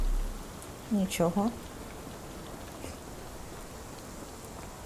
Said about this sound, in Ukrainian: Тут вічно дощ буде.